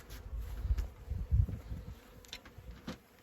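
Bees buzzing steadily close by at an opened hive while a drone trap is fitted, with low rumbling thumps and a few sharp clicks mixed in.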